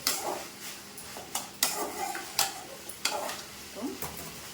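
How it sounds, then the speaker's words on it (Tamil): Eggplant and potato stir-fry sizzles in a pan while a spoon stirs it, giving a steady frying hiss broken by several sharp scraping strokes against the pan, close and fairly quiet, with no talk. "இப்போ கிண்டி விட்டுக்கோம்"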